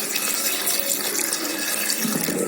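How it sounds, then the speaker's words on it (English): Water pours steadily into a cooking pot of chole, a chickpea curry, with a continuous splashing rush throughout and no talking. "Then we have to put some water in it,"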